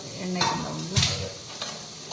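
Chopped onions frying in oil and masala for Kerala-style beef biryani, a steady sizzle with a few stirring scrapes, close by and with no talk.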